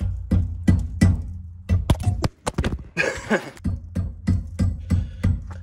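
Repeated metallic clunks and rattles from the rear suspension of a Peugeot 206 S16 going over bumps thump in an uneven rhythm, with a brief burst of harsher clattering noise partway through.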